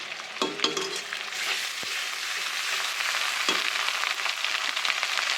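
Ginger sizzles in a hot pan for a cabbage chicken curry, a close, steady crackling fry broken by a couple of brief knocks from a utensil against the pan.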